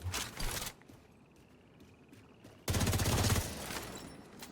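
Gunfire in the video game The Division 2 during a hardcore solo mission on Roosevelt Island: a burst of rapid shots, a quieter lull, then a louder sustained volley, with no talk.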